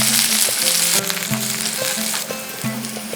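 Chopped onion and garlic sizzle loudly in hot ghee with cumin, a dense continuous frying hiss broken by a few spoon-and-pan knocks as they are stirred, close up with no talking.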